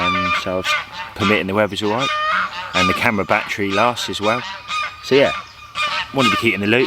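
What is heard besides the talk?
geese honking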